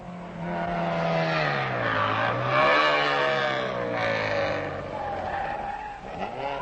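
Rally cars racing on a 1978 Danube Rally stage in the style of the Alpine rallies, engines revving and rising in pitch as cars pass close, with tires skidding and squealing loudly.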